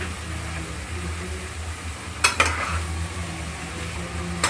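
Thai noodles fry with a steady soft sizzle in a pan, broken by a couple of sharp clinks of a utensil stirring and scraping against the metal midway through; no one talks.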